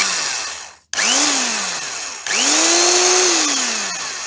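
Motor from a vintage reel-to-reel gearbox, powered through a transformer with sparking brushes, spins up twice with a rising whine that settles into a steady drone, cut off briefly between the runs, loud and close with no talk.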